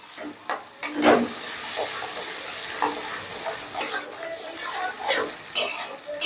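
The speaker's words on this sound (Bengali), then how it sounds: "এবার এই টমেটোটাও তেলের সঙ্গে একটু কষিয়ে নেব" Ground tomato paste sizzling in hot oil as it is stirred and cooked down, a steady hiss broken by repeated scraping strokes and spatters, fairly close and loud.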